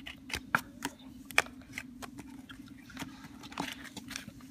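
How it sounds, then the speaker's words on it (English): Deck of playing cards given regular shuffles, producing crisp riffling and flicking bursts with soft taps in an irregular rhythm over a faint steady hum, close and quiet, no speech. "Give the cards just a couple regular shuffles."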